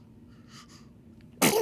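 A single sharp, loud sneeze bursts out near the end after a quiet stretch of soft breathing, close to the microphone.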